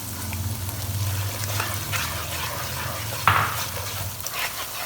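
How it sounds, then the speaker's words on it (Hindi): Ground masala with chili flakes and turmeric for a Lahori chickpea curry sizzles steadily in the pan, then a sharp hissing burst rises midway as a small splash of water hits the hot frying spices. "तकरीबन 2 से 3 टेबलस्पून पानी की ऐड करेंगे ताकि मसाला जल ना जाए।"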